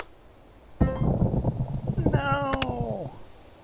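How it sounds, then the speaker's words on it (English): A plane crash in the game Puffin Planes: a rising rumble of engine noise builds into a crunching impact, with a descending whine and chaotic clatter over steady background noise. "that's the sound of a plane crashing"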